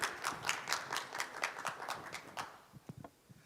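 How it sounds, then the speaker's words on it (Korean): A small conference audience claps for a presenter at a security talk on wireless hardware backdoor hacking. The scattered claps are moderately close and fade out after a few seconds, with a few isolated claps at the end. "다시 한번 소개드리겠습니다. 박수 부탁드립니다"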